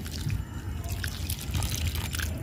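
Water pours and drips onto potting soil around a mint cutting in a pot, a close, continuous trickle with scattered splashy drips over a low background rumble.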